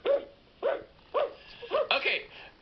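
A person imitates a dog's greeting bark with voice, giving about five short, bright woofs in quick succession, close and clear with brief pauses between them.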